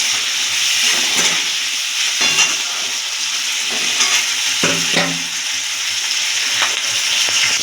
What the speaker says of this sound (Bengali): হালকা করে নুন দিয়ে পেঁয়াজগুলো হালকা করে একটু ভেজে নিয়ে